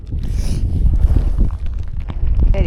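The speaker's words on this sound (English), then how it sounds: "Very windy." Strong wind buffets an outdoor microphone along a Scottish highland bikepacking route, a steady low roar that gusts throughout, loud and close.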